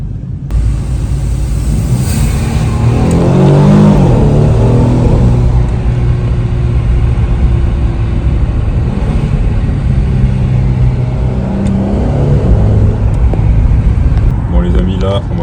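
A new car drives through the streets of Monaco along the Formula 1 circuit, its engine rumbling steadily and swelling as it accelerates, with a person talking over it throughout.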